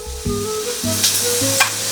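Byadgi chillies sizzle in an already hot pan, a steady close frying hiss with scraping stirs of the spatula and faint tonal clinks, no voices.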